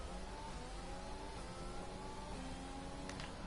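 Racing cars in an F1 racing video game circle the Australian circuit in light drizzle, a steady mid-pitched engine drone with rising and falling revs from several cars running continuously, no talk.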